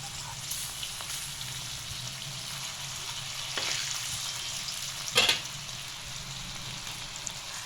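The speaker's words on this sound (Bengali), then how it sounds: "লাল লাল করে ভাজা হয়ে গেলে কাবাবগুলিকে আস্তে আস্তে তুলে নিতে হবে" Jackfruit kebabs frying in a pan of oil make a steady, quiet, even sizzle throughout, with a couple of faint clinks or stirs and no voices.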